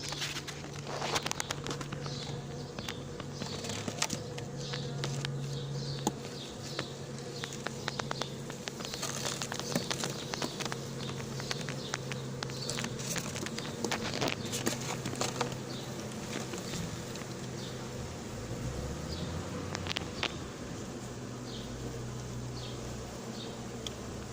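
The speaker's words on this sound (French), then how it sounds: "Je vais ramasser doucement les paquets d'abeilles" Honeybee swarm being scooped by spoon from behind a window shutter, a soft, continuous buzzing of many bees with scattered light taps and clicks, faint and close throughout.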